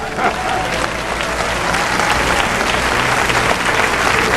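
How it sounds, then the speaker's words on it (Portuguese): Loud, sustained applause from a church audience praising God, a dense wash of clapping holding steady throughout with no pauses. "Aplausos para Deus!"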